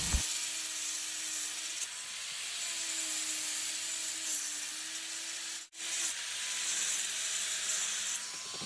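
A metal plate piece is cut for the seat of a mini RX100-style bike, giving a continuous, close, loud grinding and cutting noise with a faint whine that runs for several seconds and breaks off once briefly midway.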